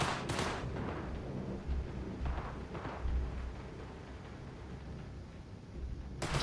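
Gunfire in the video game Cyberpunk 2077, a few dull shots and bursts rising out of a steady, busy game-world din, with a sharper crack at the start and another at the very end.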